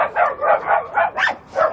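Dogs at a dog meat farm bark and yip in quick repeated bursts, about six sharp barks close by, loud and rhythmic with short gaps, one rising in pitch like a whine.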